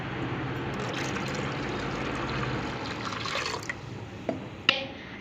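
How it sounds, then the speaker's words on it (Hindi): Water poured steadily into a pakora kadhi mixture of gram flour and yogurt, a continuous close trickling and splashing, followed by a couple of brief clinks near the end. "तकरीबन 4 से 5 गिलास हम लोगों ने पानी डालना है"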